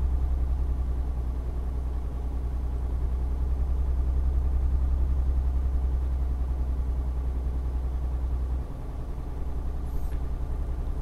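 A Mercedes-Benz Actros truck engine in Euro Truck Simulator 2, hauling a 20-tonne load of used packaging, drones in a steady, loud low rumble that holds constant throughout with no voices.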